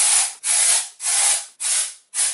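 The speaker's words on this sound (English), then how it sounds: "So I'm gonna spray it with Batiste Instant Hair Refresh Tropical Smell Dry Shampoo." Batiste Instant Hair Refresh Tropical dry shampoo is sprayed onto hair roots in five loud, close, hissing bursts with brief gaps between them, and no voice.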